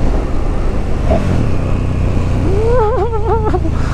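A 2018 KTM 1290 Super Duke motorcycle engine revving, a steady rumble rising into several quick wavering rev pulses near the end, heard close by.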